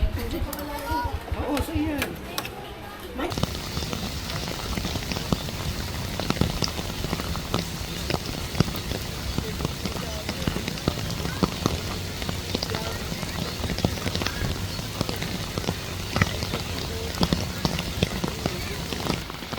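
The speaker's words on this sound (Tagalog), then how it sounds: "Ang lakas ng ulan." Heavy rain pours down steadily at Cagsawa Ruins near Mayon Volcano, drops pattering hard on nearby surfaces, with a brief stretch of talking near the start.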